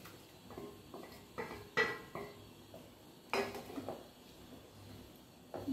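Eggplant pieces go into a pan of oil for a kuzhambu and get stirred, making a series of light metallic clinks and scrapes from spoon and pan. The knocks are irregular and fairly close, with no one talking.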